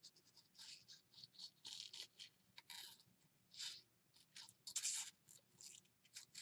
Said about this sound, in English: Fussy cutting away.